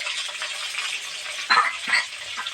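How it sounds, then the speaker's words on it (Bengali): Potatoes frying in a wok, a steady hiss of sizzling oil with a couple of louder crackling bursts, close and without voices. "এবার আলুগুলো আমি ভেজে নেব।"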